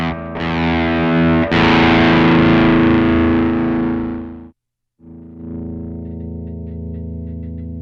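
Electric guitar through a BOSS DS-1 distortion pedal: loud, heavily distorted chords sustain for about four seconds, cut to a brief silence, then a quieter distorted chord rings out to the end.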